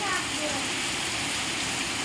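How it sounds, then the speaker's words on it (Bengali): Heavy rain pours down in a dense, unbroken hiss, steady and fairly loud throughout the brief moment. "বৃষ্টি আরো জোরে জোরে বাড়ছে।"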